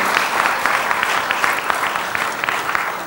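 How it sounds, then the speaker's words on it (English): An audience applauds dignitaries at a business session function, with steady, dense clapping that holds at a constant level throughout. "Let's have a round of applause once again for our honorable dignitaries here for having graced the occasion."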